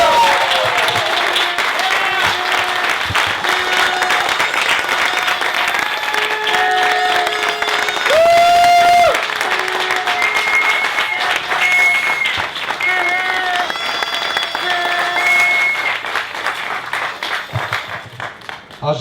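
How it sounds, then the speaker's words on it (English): A crowd in Montreal applauds cyclists who crossed Canada, sustained loud clapping with cheering and whistles mixed in over a continuous bed, gradually thinning near the end. "On les applaudit."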